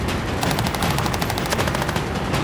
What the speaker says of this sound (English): That gunfire can be quite loud, can't it?